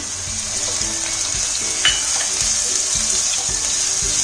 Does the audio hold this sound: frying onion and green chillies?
yes